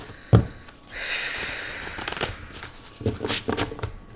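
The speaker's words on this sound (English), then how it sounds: "Set the deck down in the middle of a shuffle." Tarot cards riffle and snap together in a close shuffle, a quick tap first, then a long whirring riffle followed by a few shorter bursts of flicking cards.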